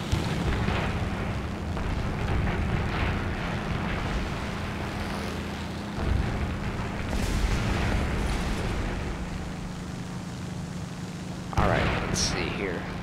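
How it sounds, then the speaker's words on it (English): Bombs dropped from an aircraft in the War Thunder air-combat game, with a steady propeller-engine drone throughout and a few dull booming impacts rising out of the noise, mixed under occasional talk. "Drop the bomb. And we'll drop another."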